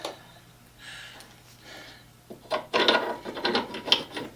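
An old restored pipe clamp being screwed onto a threaded steel pipe, giving faint metallic rubbing and ratcheting scrapes in short uneven bursts that grow louder toward the end.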